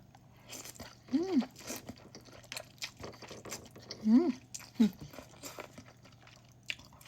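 Someone eats chicken feet with rice noodles and pork belly, with close, crisp crunches and wet chewing in irregular bursts, mixed with a few short murmured sounds and low background hum.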